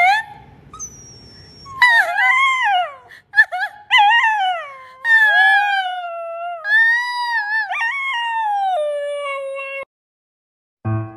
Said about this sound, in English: does your dog cry when you cry?